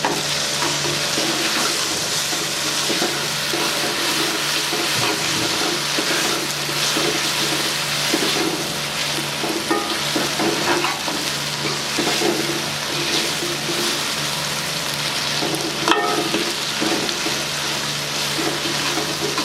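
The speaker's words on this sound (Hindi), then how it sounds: "अच्छे तरीके से फ्राई करेंगे" Green chillies frying and being stirred in a pan while cooking tori (ridge gourd) sabzi: a steady, close sizzle runs throughout, with scraping stir strokes and light clinks on top and no talking.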